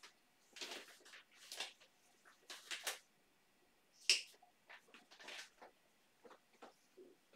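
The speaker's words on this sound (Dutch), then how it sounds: "En ik doe altijd een knipje bij de zomer." Scissors snipping a small notch into dress fabric during sewing, a few short, crisp cutting clicks spaced irregularly, close and quiet, with soft handling noises between them.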